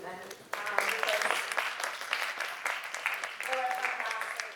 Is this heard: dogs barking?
no